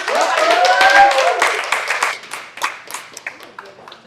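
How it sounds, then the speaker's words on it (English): Audience hand clapping at a live city tour event, a loose scatter of claps rising under a voice and other crowd noise, then thinning to sparse individual claps. "Can y'all give her a hand clap?"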